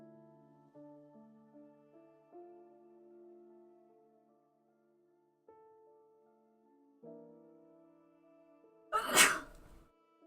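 Soft, sustained musical tones play quietly, then a woman's single sharp, loud sneeze bursts out near the end.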